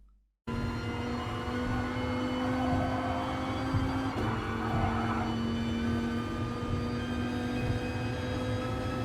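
A Gr.4 race car in the Gran Turismo Sport video game holds full throttle through a corner on the Tokyo Expressway South Outer Loop, its engine a loud steady drone with a sustained pitch and a brief shift midway, no voices.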